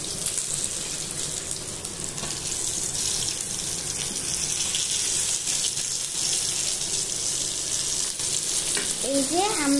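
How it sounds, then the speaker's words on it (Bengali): Onions and sour olives frying together in a pan for a koi fish dish, with a steady close sizzle and wet, watery stirring noises running throughout and no talking. "এখানে আরেকটু পেঁয়াজ দিয়ে ভেজে নিচ্ছি।"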